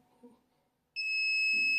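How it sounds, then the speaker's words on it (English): A T-shirt heat press gives a loud, steady electronic beep that starts partway through and holds to the end, signalling the shirt is finished, after a stretch of low room noise. "it's going to beep again to tell you that your shirt is ready"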